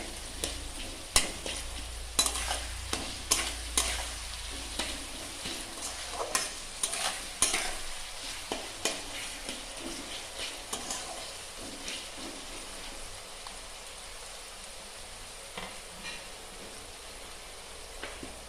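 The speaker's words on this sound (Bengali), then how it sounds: "এবার সব একসাথে ভেজে নেব।" Poha ingredients with sugar fry together in a pan while a spoon scrapes and stirs them, producing a constant sizzle broken by sharp, irregular stirring knocks that thin out toward the end.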